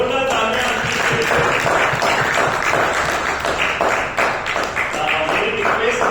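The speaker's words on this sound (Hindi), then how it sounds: "एक बार जोरदार तालियां" Dense audience clapping at a business training seminar on AI use, a continuous loud wash of many hands sustained for several seconds without a break.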